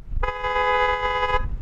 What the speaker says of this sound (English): Now I'm going to honk mine.